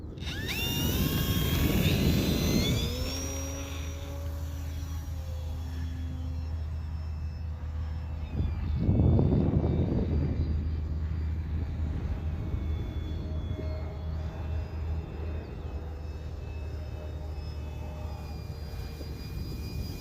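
An aircraft takes off with a steady engine drone underneath, a rising whine early on and a brief louder burst midway, heard at moderate level without talk.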